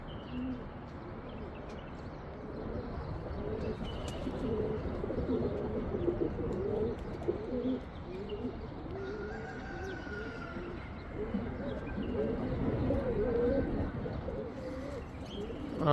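Soft pigeon coos repeat in a low, murmuring rhythm against a steady outdoor background, fairly faint and continuous.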